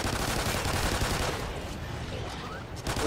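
Sustained rapid gunfire from a shooter video game, loud and continuous, with bursts blending into a dense roar that tapers slightly toward the end.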